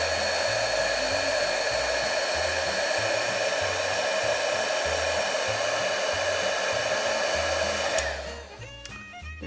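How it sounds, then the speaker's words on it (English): A heat gun blows continuously up close while it melts embossing powder on a stamped card. It gives a steady, even fan whoosh with a hum, then cuts off near the end. "and then I'm going to use my heat gun to melt it"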